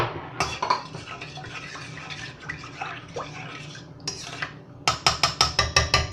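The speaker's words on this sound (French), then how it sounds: "Et enfin la levure. Je vais remuer." Yeast is stirred into a pastry mixture for pains au chocolat in a bowl, giving close scraping and clinking of utensil against the bowl, ending in a quick run of rhythmic taps.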